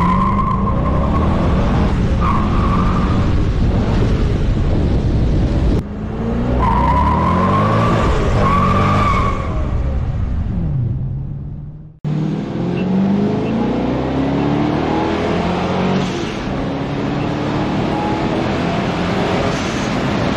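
A C5 Corvette is driven after a clutch fluid change. Its engine revs loudly and close by, rising and falling through gear changes, with a short break partway through and no talking.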